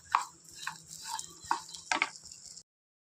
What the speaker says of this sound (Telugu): ఇలా డేట్స్ అన్నీ వేసేసుకుందాము. ఇవన్నీ ఇలా వేసేసుకొని మొత్తం కలిపేసుకోవాలండి